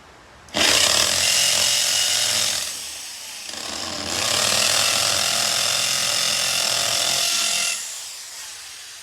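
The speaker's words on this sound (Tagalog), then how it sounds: "At kitang-kita nyo naman kung gaano kabilis makabutas tong drill na to." An Ingco 680W impact drill bores a hole, a loud, close, harsh hammering whine running in two long bursts separated by a brief dip.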